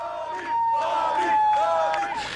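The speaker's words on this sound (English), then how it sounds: "As a crowd of students chanted "Bobby, Bobby" early today, Knight told them" A crowd of college students chants for a fired Indiana University basketball coach, loud rhythmic rising and falling voices repeating the same call over the span.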